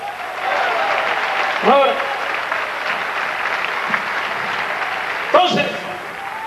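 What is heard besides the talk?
audience applause in church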